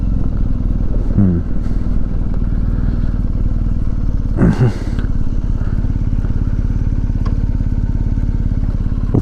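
A 2019 BMW R1250 GS adventure motorcycle rides along with a steady, loud engine drone, a couple of brief clattering bumps and a gear change, while a rider talks over it.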